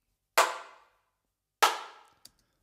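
Layered hand claps from a software clap plugin, pitched all the way up with a narrow stereo image and a touch of reverb; two sharp, loud clap bursts with short decaying tails, followed by a faint tick.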